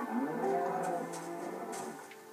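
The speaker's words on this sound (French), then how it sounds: "Les moutons, les vaches champignons." Mooshroom cows on a Minecraft farm give a couple of low, drawn-out moos over a steady game background, close and fairly loud with no talking.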